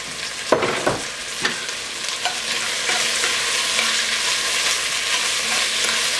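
Peppers tossed into a hot pan and stirred, a few sharp clattering knocks at first, then a steady close sizzle with light scraping, no voices.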